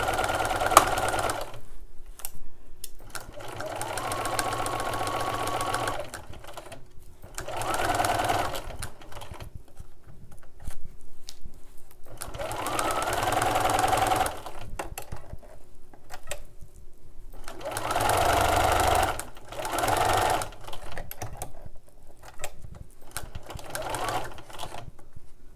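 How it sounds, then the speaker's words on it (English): A sewing machine fitted with a walking foot stitches straight quilting lines in several bursts of steady mechanical whirring and clatter, separated by short pauses, close by, with someone talking between and over the runs. "we're just going to sew a straight line all the way down"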